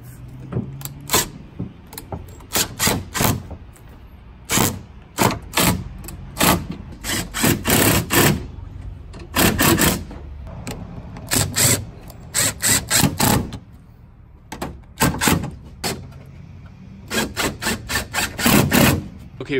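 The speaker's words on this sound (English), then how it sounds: "this basically will hook into my impact driver so I don't have to spend the rest of the night ratcheting all these clips" Impact driver tightening the clamps of a Tyger roll-up tonneau cover on a 2018 Ford F-150 pickup bed, heard as repeated short bursts of loud buzzing hammering separated by pauses, up close and without speech.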